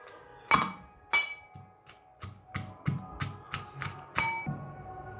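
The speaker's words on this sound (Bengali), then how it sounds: "পেঁয়াজগুলো আস্তে আস্তে থেতো করে নিয়ে চলো" Chopped onions being crushed by pounding, giving a series of about nine sharp, clinking thuds at an uneven but steady rhythm, close up, with no talk.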